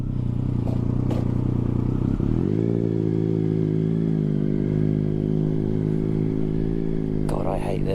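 A motorcycle carrying a pillion passenger runs loudly and close in a car park. Its engine drones steadily and rises in pitch as it pulls away, with a voice speaking over it.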